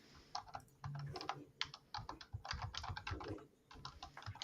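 Quiet, rapid clicking of a computer keyboard comes through during a live group call. The keystrokes fall in irregular bursts with short pauses between them.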